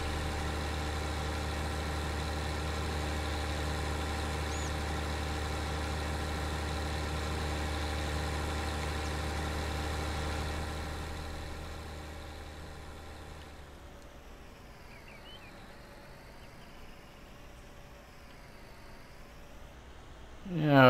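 A farm vehicle's engine in Farming Simulator 19 drones at a steady idle, then drops and labors as it bogs down, fading to a quieter strained hum with wavering tones before revving sharply at the end.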